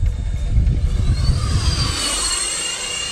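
Remote-control F-14 model jet passes by, a loud broadband rush that sweeps into a rising whine and high howl as it flies past at low throttle, fading toward the end.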